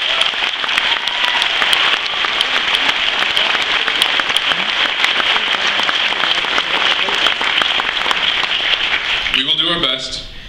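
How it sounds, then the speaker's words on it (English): A large crowd applauding at a class of 2014 graduation ceremony, sustained loud clapping for about ten seconds before fading, with a voice speaking over the dying applause at the very end. "Let's give these people a round of applause."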